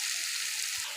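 Radish greens hit hot oil in a pan with a bright, hissing sizzle, loud and continuous through the moment, with a faint low knock near the end.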